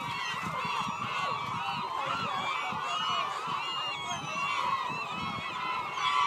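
Hundreds of seagulls gathered in South Surrey near Vancouver call at once in a dense, continuous chorus of overlapping squawks, loud and close with no break.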